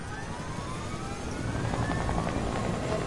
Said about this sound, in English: Bro, who's in a helicopter?